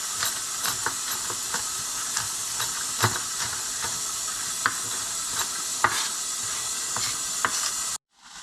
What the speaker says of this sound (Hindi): आज भी हम बना रहे हैं आपके लिए दाल तड़का